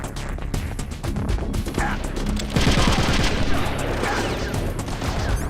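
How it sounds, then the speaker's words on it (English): Gunfire in the stealth action game Metal Gear Solid: The Twin Snakes on GameCube, a rapid run of loud cracking shots and impacts continuing throughout, getting denser and louder midway. "Why do I have to hold down the gun to shoot it?"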